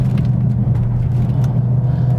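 A Mercedes-AMG A45S being thrown through a wide corner, its engine a deep, steady rumble with heavy low-end drone and road noise, loud and close, with no talking.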